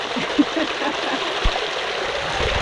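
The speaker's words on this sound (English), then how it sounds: "We have the small waterfall here." A small waterfall on a village stream in Africa pours with a steady, close rushing and splashing, continuous and unbroken, with no voices.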